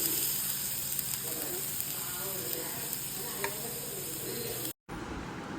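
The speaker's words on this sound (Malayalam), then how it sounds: "ഇതാ നെയ്യ് ഒഴിച്ച് ഇത് വഴറ്റുകയാണ്" Cut carrots sautéing in ghee in a pan, a steady close sizzle and hiss with faint stirring scrapes, continuous until a sudden brief cutout near the end.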